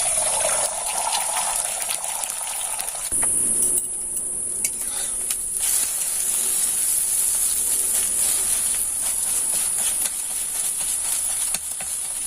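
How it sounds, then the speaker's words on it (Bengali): Beaten egg frying in hot oil in a kadai, a steady, loud sizzle and hiss with a brief sharper burst of crackling early on and occasional stirring scrapes. "এবার আমি ডিম কড়াইতে তেল দিয়ে দিয়েছি এবার ডিমটাকে আমি ভেজে নেব"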